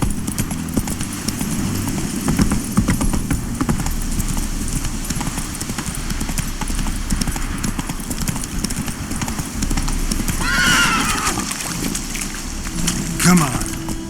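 Hooves of the horse Roach clip-clop at a gallop in The Witcher 3 video game, a steady fast rhythm under a voice and music, with brief whinny-like calls near the end.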